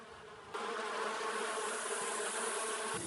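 A swarm of honey bees buzzing in a dense, continuous drone, close and steady, swelling slightly in loudness after a brief quieter opening and holding without pause.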